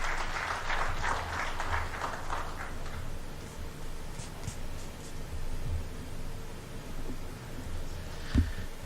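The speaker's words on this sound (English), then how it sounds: "Another round of applause to our chief guest" A crowd applauds at a Kenyan parliamentary group meeting, loud clapping at first that thins into scattered claps and rustling, with a brief thump near the end.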